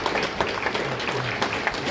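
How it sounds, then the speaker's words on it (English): An audience at the inauguration of a new building at St. Jerome's Higher Secondary School claps. The clapping is brief and moderately dense, with individual claps standing out from the steady patter. "Let's give a big clap once again"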